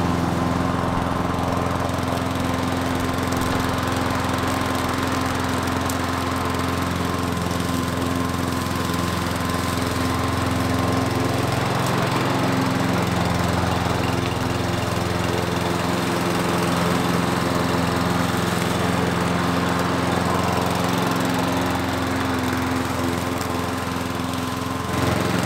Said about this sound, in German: Deswegen haben wir jetzt getauscht und der Mäher ist echt schön leise und ruhig.